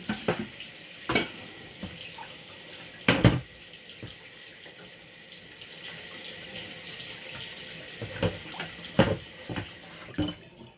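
Leafy vegetables are rinsed under a running kitchen tap, with a steady stream of water and intermittent louder splashes and rubbing as the leaves are handled, no talking.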